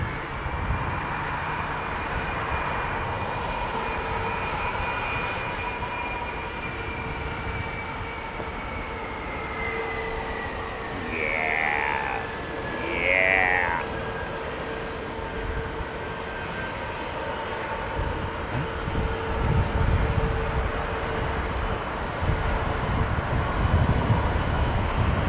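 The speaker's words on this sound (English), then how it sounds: "AN124, of course, very unique aircraft to Antonov" An Antonov An-124 at London Heathrow Airport makes a loud, steady engine roar that swells and falls across the clip, with no voices over it.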